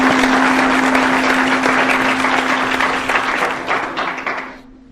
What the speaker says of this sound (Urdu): ہم خداوند کے نام کے لیے زوردار تالیاں اور اس کو مبارکباد پیش کریں گے